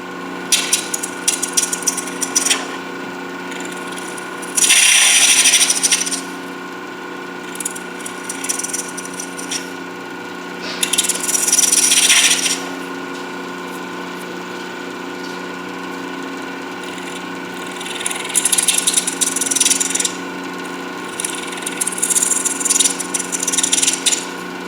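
A lathe spins an acrylic pen blank with a steady motor hum, broken by repeated bursts of harsh cutting and scraping as the tool bites into the spinning acrylic.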